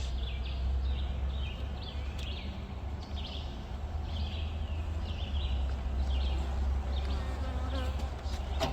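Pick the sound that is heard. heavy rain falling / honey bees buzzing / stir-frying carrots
honey bees buzzing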